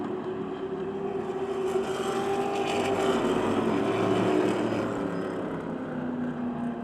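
Race cars on the final lap at Motordrome Speedway speed down the back straight, a steady blended engine drone holding at moderate loudness throughout with no talking.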